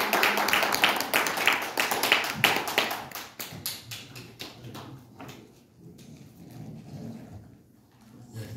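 A lecture audience applauds as the fourth session begins, dense close clapping that thins out into scattered, slower individual claps and fades to a few last taps, with faint murmuring underneath.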